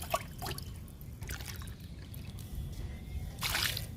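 Liquid made from oats and kitchen waste poured onto a potted rose plant, a gentle close trickle with a few dribbles and drips, rising briefly to a brighter splash near the end.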